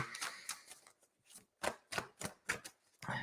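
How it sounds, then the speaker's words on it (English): Close, crisp papery riffles and taps as a deck of cards is shuffled, in short irregular bursts with brief pauses between them. "Giving these a good shuffle for you, Lisa."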